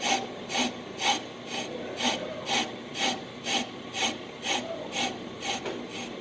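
A Hunter brake lathe cuts slowly across a rusty brake drum toward its center, giving a steady rasping scrape with a regular pulse about twice a second as the drum turns, close and fairly even.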